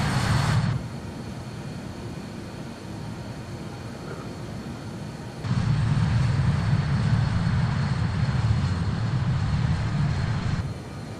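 Aircraft engine droning in flight over mountains and hills, a steady close-up roar that drops briefly then swells louder and holds, with no voices.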